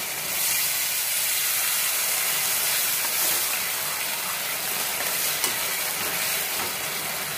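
Chilli chicken sauce, thickened with cornflour paste, being stirred in a hot pan: a steady, dense sizzle and hiss fills the whole stretch, with faint scraping of the spoon underneath and no voices.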